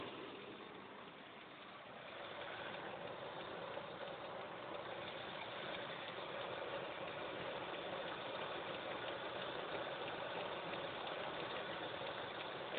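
A car engine idles steadily with a faint, even knocking tick in its low, muffled drone, quiet and continuous throughout.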